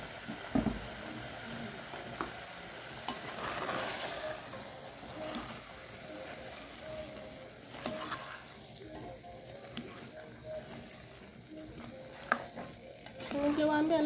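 Tomatoes hit a hot pan and are stirred, a soft sizzle under scraping and clinking of the spoon, close but fairly quiet, with light voices now and then.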